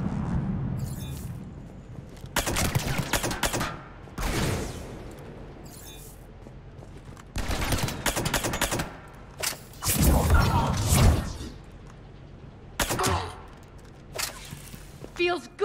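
Gunfire from a video game firefight against armored defenses, with repeated loud bursts and booms packed across the span, heavy and close, mixed with mechanical clatter and game sounds.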